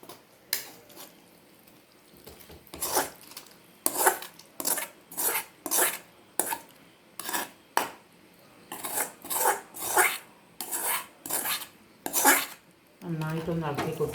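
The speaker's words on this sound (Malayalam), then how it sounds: "ഇനി അതിലേക്ക് നമുക്ക് ഈ ഉള്ളി വാട്ടിയത് അതിലേക്കിടാം" Sautéed onions tipped into a pot of boiling tamarind water for a fish curry, giving a series of clattering scrapes and clinks of a utensil against the pot in irregular bursts, followed by a brief sizzle at the end.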